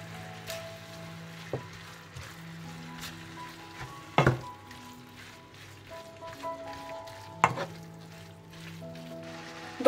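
Cabbage with sweet ground paprika, seasoning and bay leaves is stirred in a pot, giving a soft, quiet sizzle with a few sharp spoon knocks against the pot's side.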